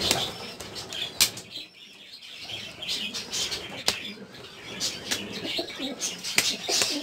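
Pigeons flapping their wings in repeated sharp bursts of wing claps close by, with scattered soft coos and chirps between the flurries.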